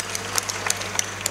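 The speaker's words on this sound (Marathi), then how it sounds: "टाळ्या वाजवता टाळ्या." Audience members applaud during a humorous Marathi kirtan, with sparse, crisp claps over a low steady hum, fairly close and moderately loud.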